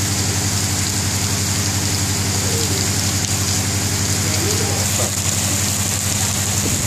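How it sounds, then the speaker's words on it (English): Steady rain pours down during a sudden afternoon shower in hot weather in India, a dense even hiss lasting throughout, with a low engine-like hum running underneath. "finally cool rain in hot India."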